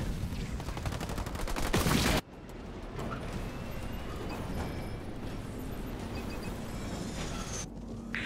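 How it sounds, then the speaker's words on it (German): Brute troops firing in Halo Wars 2, a rapid burst of loud gunfire that cuts off abruptly, followed by a dense battlefield din of continued shots and rumbling combat at moderate distance. "Werde von groben Truppen beschossen."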